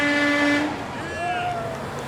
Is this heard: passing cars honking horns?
yes